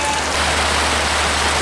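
Steady rain pours onto surfaces outdoors at a fishing spot, a dense, loud hiss with no breaks and no voices.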